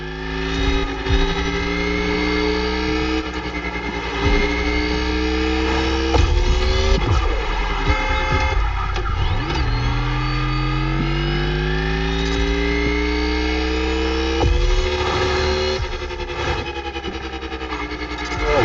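Ferrari F40 and F50 engines drone continuously in The Crew Motorfest, a loud, buzzy, harmonic roar with pitch rising through each gear and dropping at shifts, repeated acceleration pulls with no talk.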